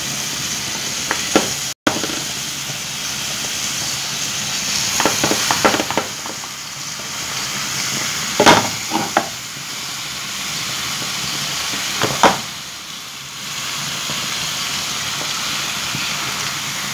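Onion fries in hot oil in a pan with a steady close sizzle and hiss, broken by several sharp clinks and stirring scrapes.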